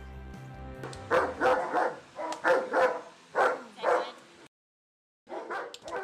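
A six-year-old German Shepherd barks in a steady series of about eight loud, close woofs, then pauses briefly before barking again at the end.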